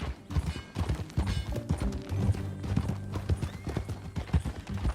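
Horse hooves clip-clop in a steady rhythm with a loud whinny in Red Dead Redemption 2, close and clear alongside faint tack and mechanical rattles.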